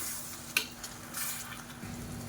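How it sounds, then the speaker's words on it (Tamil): Tomatoes sautéing in hot oil in a pan for a catering-style brinjal curry, a steady soft sizzle with a sharp stir or utensil scrape near the start, close and alone. "சேர்த்துட்டு நல்லா எண்ணெய் பிரிஞ்சு வர அளவுக்கு வதக்கிக்கலாம்."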